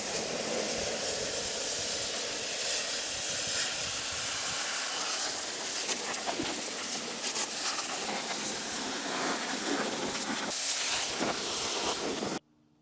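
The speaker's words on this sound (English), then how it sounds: "We're gonna go ahead and start rinsing again." A power washer sprays steadily to rinse foam off a lawn mower, a loud continuous hissing rush with small surges in spray, running without talk until it cuts off abruptly at the end.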